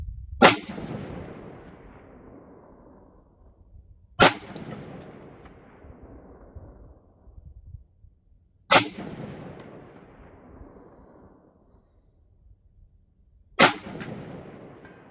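Four sharp rifle shots, about four seconds apart, are fired at a steel gong 300 yards away. Each crack is loud and close, followed by a decaying echo, and no distinct gong ring stands out.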